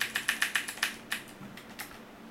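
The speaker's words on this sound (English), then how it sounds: "I'm just going to use the keyboard, it's a little bit quicker." Rapid typing on a computer keyboard while setting BIOS values on an Asus Sabertooth P67 motherboard, with a burst of crisp keystrokes followed by a few scattered taps, close and fairly quiet over a faint steady hum.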